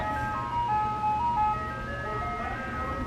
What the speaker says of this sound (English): Oh, here comes the ice cream truck.